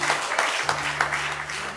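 Church congregation clapping hands in praise during a gospel service, a dense, sustained patter of many hands at moderate loudness with some voices mixed in beneath.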